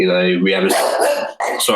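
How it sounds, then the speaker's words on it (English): A dog barks a few times close by, its sharp yelps mixed in with someone talking throughout, in a guitar shop during an interview about Boult guitars. "that's a dog again"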